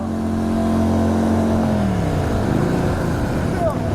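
Custom-built motorcycle engine revving steadily and loudly during a group ride, a continuous roar with a droning tone that drops in pitch partway through, with wind noise throughout.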